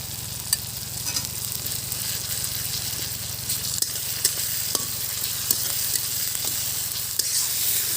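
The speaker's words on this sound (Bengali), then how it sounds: "আদা রসুনটা যখন একটু ভাজা ভাজা হয়ে যাবে" Ginger garlic paste fries with onion and tomato in a pan for a papaya and potato curry, a steady close sizzle broken by occasional stirring scrapes and taps, with no talking.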